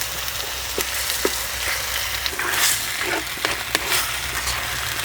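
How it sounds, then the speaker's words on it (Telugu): Country chicken curry sizzles steadily in a hot pan while a utensil scrapes and clinks against it in irregular strokes, close up. "దీన్ని ఒకసారి ఇలా బాగా కలుపుకోవాలండి"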